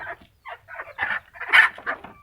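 Hens in a backyard coop of thirteen laying chickens give a run of short, clucking calls, close and fairly clear, with brief pauses between bursts.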